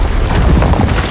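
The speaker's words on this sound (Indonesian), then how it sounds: "Tak lama setelah ledakan terjadi" A loud, deep rumbling blast that fills the whole moment, a sustained booming roar with crackling debris-like noise.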